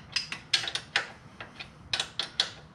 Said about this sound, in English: Helps if you know how to use a wrench.